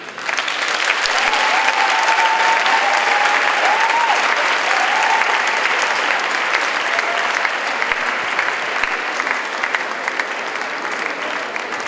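Loud, sustained audience applause fills a charity concert hall as a school audience welcomes the band, steady dense clapping lasting the whole stretch with no break.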